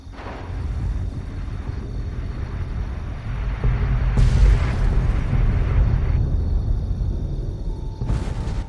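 A nuclear bomb goes off in the Fallout 3 video game, producing a sustained, loud, rumbling roar with a swell of deep boom midway that lingers for several seconds.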